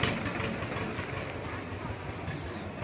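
A motorcycle engine idles steadily as a street vendor arrives on a bike loaded with goods, a continuous low rumble close by with no speech heard.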